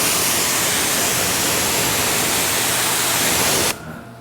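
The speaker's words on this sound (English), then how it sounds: "So I'll spray my Nextech ColorTech on the exhaust tips" Nextech ColorTech cleaner sprayed onto car exhaust tips, one steady, loud, close hiss of spray lasting several seconds before cutting off abruptly into quiet.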